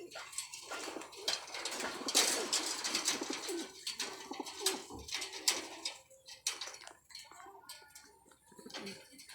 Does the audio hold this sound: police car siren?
no